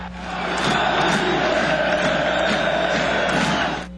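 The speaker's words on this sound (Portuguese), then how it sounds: "2-0 e festa da torcida." Football supporters roar after their team scores the second goal in a Brazilian match. The dense crowd noise swells in, holds loud and steady with shouts mixed through it, then fades slightly at the end.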